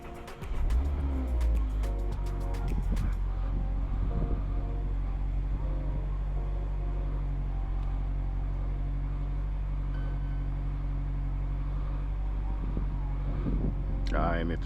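A 2024 Mazda MX-5 Club starts from cold after a few faint clicks, catching within a second and settling into a steady, close, even idle hum that holds unchanged, with no one speaking.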